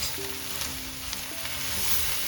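Kale sizzles and fries steadily in a pan of dhal, a continuous bright hiss with faint stirring clicks, close and even throughout with no talking.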